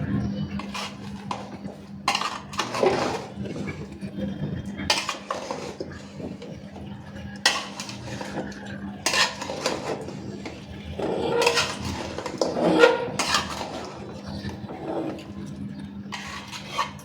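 Food being mixed in a pot, with repeated clanks and scrapes of a metal utensil against the cookware in irregular bursts, close and clear, with a voice talking briefly.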